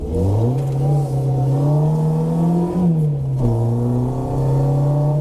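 The engine of a 1997 Renault Clio RSI, leaking coolant, idles high at around 1400 rpm with a steady close hum, its pitch dipping and rising briefly once midway.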